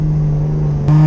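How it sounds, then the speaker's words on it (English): A car engine with a damaged turbo that won't spool drones at a steady pitch, close and loud, then steps up slightly near the end without building boost. "there's enough damage to the turbo now to where it just doesn't spool"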